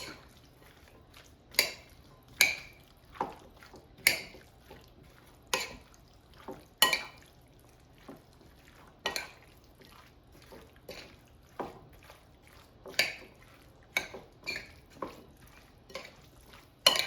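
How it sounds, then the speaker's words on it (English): Tuna salad is stirred and tossed in a bowl, giving a steady run of soft wet clicks and scrapes of utensil on dish, close and fairly quiet, repeating every second or so with no talking. "And now mix everything until combined."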